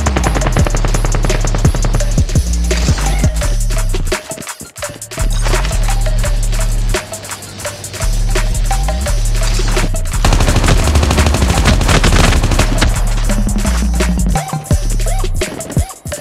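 Dense automatic gunfire from a Call of Duty battle royale match, with an AK117 rifle in use: loud rapid bursts run through most of the stretch, broken by brief pauses, over steady game music and effects.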